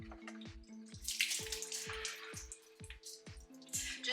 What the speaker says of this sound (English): I'm just gonna get these rinsed off. So just have a colander, just drain these off.